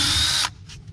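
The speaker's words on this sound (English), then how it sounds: "So we're going to go ahead and take this panel off and we'll get to the pack. Pretty simple. Cordless drill." A cordless drill backs a screw out of the panel on a TT450 spa, giving a short high-pitched whir that stops abruptly after half a second, followed by a couple of faint clicks.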